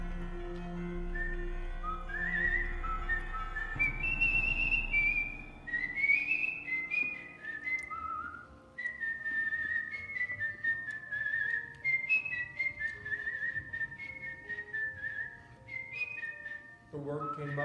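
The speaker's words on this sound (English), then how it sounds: "He can whistle." A man whistles a tune indoors with paranormal investigators nearby: a clear, close melodic line of sustained and sliding notes, with brief pauses between phrases.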